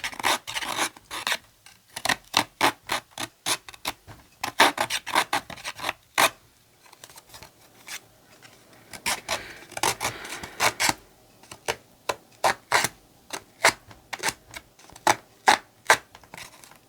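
Paper edges are roughened by rubbing, with rapid, repeated rasping scrapes in close bursts and short pauses between them.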